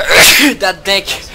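A sharp, loud sneeze bursts out during a League of Leagues-style online game session, with a gamer's voice talking immediately after and over the tail of it.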